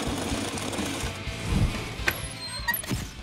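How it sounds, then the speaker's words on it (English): Bandsaw cutting metal mount pieces for a Buick Regal build, a steady whirring hum with scattered sharp clicks and brief higher-pitched screeches as the blade bites, close and moderately loud. "Now a quick trip to the bandsaw so I can whittle all these out."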